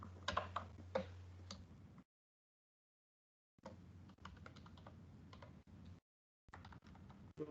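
Fast bursts of keystrokes clatter on a computer keyboard during Java coding, close and crisp, broken by two stretches of complete silence between the typing runs.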